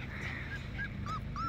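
A litter of corgi puppies whimper and yip nearby, several short rising high squeaks scattered over a low background rumble, fairly quiet, with no talking.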